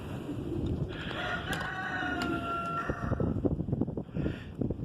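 A rooster crows one long call nearby, followed by scattered clucks and rustling in a barnyard setting.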